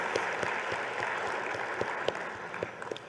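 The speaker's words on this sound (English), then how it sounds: "Can we get a round of applause for these individuals?" A luncheon crowd applauds honored rising-star individuals, steady moderate clapping with scattered sharper individual claps standing out near the end.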